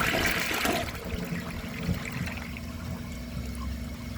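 A 2006 Vitromex Marathon II comfort-height toilet flushes during a dish towel test, giving a loud rush of water at first that settles into a steady lower gurgle and trickle as the bowl refills.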